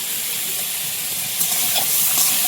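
Fish drops into a hot pan of oil with vegetable stalks and whole tomatoes, giving a steady broadband sizzle and hiss that swells slightly toward the end, with no voices.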